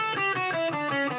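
Distorted electric guitar droning an A, playing a sustained run of notes with a thick, buzzing harmonic tone, close and steady throughout.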